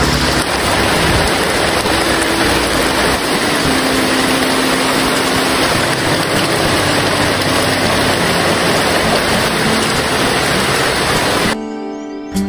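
Heavy rain pours on a treehouse roof, a loud, dense, unbroken hiss of drops hammering the surface that continues steadily until it cuts off abruptly just before the end.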